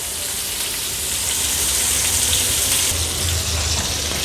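Lady fish fry in oil in a pan over a medium flame, giving a steady, fairly loud, even sizzle throughout with no talking.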